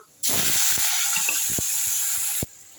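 Chopped onion drops into hot sesame oil with already-popped mustard seeds, setting off a sudden, loud, steady hiss that holds for about two seconds and then cuts off abruptly.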